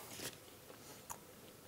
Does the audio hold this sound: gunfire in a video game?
no